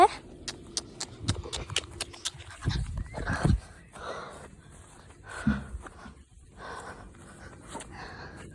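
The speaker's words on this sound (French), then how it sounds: "Là, on y va au trot" A horse trots with quick, light clip-clop hoofbeats in a steady rhythm, alongside some brief rustling and soft voices in the background.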